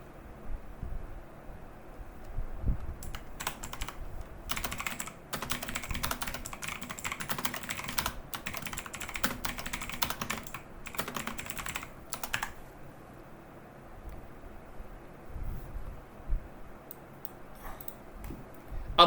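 Keys clatter on a computer keyboard as text is entered into cells of an MS Excel spreadsheet, in quick uneven bursts of close, crisp clicks with short pauses between words.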